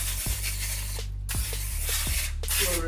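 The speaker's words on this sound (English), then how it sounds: "I'm gonna spray this with a little bit of cooking spray so our dogs don't stick" Cooking spray hissing from an aerosol can onto a pan before frying corn dogs, in a few short bursts close by.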